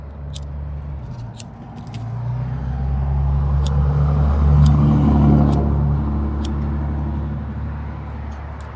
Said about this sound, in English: You can hear the sounds of incoming traffic outside.